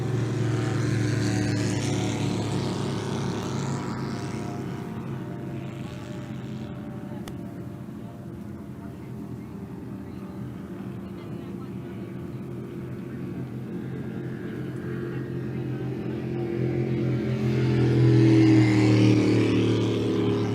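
Racing boats run at the Parker Enduro with a distant, continuous engine drone that builds toward the end as a craft draws nearer, and a voice talks over it.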